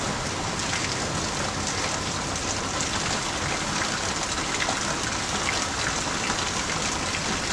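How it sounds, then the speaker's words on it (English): Steady rain pours down outdoors at a big cat rescue sanctuary, a dense even hiss that stays constant and moderately loud, with no talk. "we're gonna see if we get a break in this rain here"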